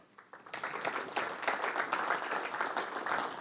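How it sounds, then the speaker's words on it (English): Audience applause at a sports facility financing panel, a steady burst of clapping from a seated crowd that swells quickly and holds for a few seconds. "Round of applause for Joe"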